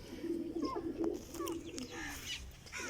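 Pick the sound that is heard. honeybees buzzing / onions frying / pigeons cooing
pigeons cooing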